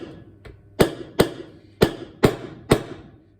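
Hammer striking a socket set on a cylinder head valve to break a stuck collet free: six sharp metallic taps, one light then five heavier, spaced roughly half a second apart, close and loud.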